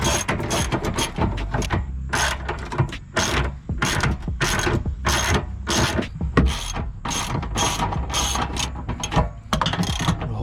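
A ratchet wrench tightens a bolt on an abandoned Subaru SVX, its pawl clicking in fast repeated bursts of strokes that pause briefly between pulls, loud and close throughout.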